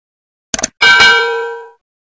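A notification bell sound effect: a short metallic clatter followed by a single bright, ringing chime that fades over about a second, alone with no voices.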